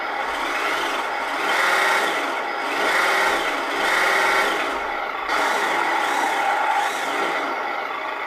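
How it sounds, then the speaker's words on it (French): Small electric HG P408 RC Humvee motor whirs up in a series of rising, whining surges, each rev swelling then dropping, close and with no talk. "On va entendre le bruit d'accélération."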